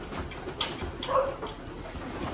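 Racing pigeons at the loft give a few soft coos and brief calls close by, with faint rustling in between and no talking.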